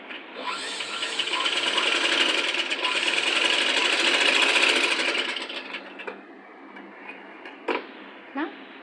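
A sewing machine stitches a child's Punjabi dress top, a continuous close whirring run lasting about five seconds before stopping, then light clicks and fabric handling.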